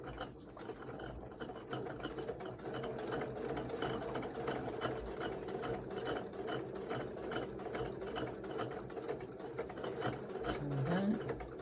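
A sewing machine stitches a fabric ornament, its rapid mechanical chatter running steadily and close for the whole stretch with no talk over it.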